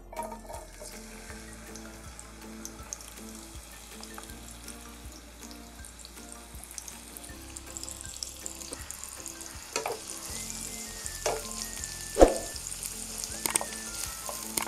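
Chopped onion frying in hot oil in a pan for bitter gourd bhaji, a soft close sizzle that grows denser and louder over time, with scattered spoon clinks and scrapes, no talking.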